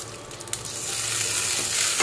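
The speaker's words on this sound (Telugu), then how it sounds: "ఎండుమిర్చి, అలాగే 1 టేబుల్ స్పూన్ శనగపప్పు వేగుతూ ఉండగానే" Chana dal, mustard seeds, urad dal, dried red chili, garlic and curry leaves fry in hot oil, a continuous close crackling sizzle that swells slightly, with faint stirring.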